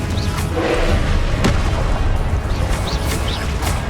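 Confringo fire-spell explosions in the video game Hogwarts Legacy, loud booming blasts with sharp cracks over a dense continuous rumble of combat effects.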